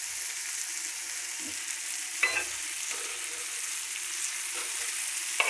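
Food frying in hot oil, a steady sizzle and crackle with a few brief clinks and stirring sounds over about five seconds, no talking.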